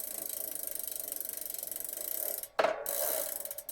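A spare mountain bike wheel's freewheel hub clicks in a fast, even ratchet pattern as it spins, close up and alone, ending in a brief louder rustle.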